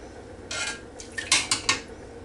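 Metal tongs clank and scrape against a pan while lifting out cooked baby back ribs, a few sharp clinks and scrapes standing out against a quiet background.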